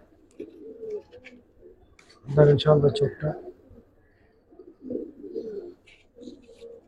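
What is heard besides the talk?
old-breed Giribaz pigeons in a loft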